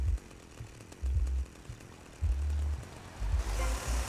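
A chainsaw in GTA Vice City revs in several loud bursts with low, rough engine roars and quieter idling gaps between them.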